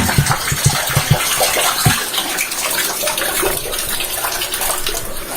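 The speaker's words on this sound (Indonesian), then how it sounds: "Ada pancurannya." Water gushes steadily from a spout in an underground cave river, a loud continuous splashing rush with a few sharper low thuds early on.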